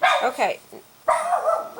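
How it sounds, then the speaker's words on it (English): A dog barks a few times in quick bursts, close to the microphone, with a person speaking briefly alongside. "Excuse my dog barking."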